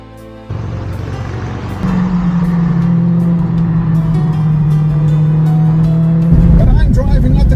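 A TVR Chimaera 500 climbs the Klausen Pass mountain road, its engine droning steadily and loudly close by, then surging louder near the end, with a voice talking over it.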